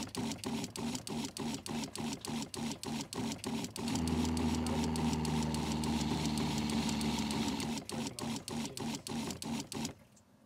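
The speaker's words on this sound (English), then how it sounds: "Let me play the two video clips from before and after side by side, and I'm trying to visualize when the pump is turning on." A Winnebago Revel camper's water pump cycles on and off in playback, with a rapid mechanical pulsing that gives way to a steady humming run for several seconds, then pulses again before stopping.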